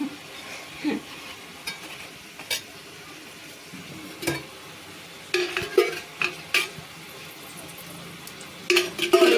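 Onions and broad bean (chikkudukaya) curry are stirred by hand in a pan, with repeated scraping and clinking strokes over a soft frying sizzle, loudest in bursts toward the end.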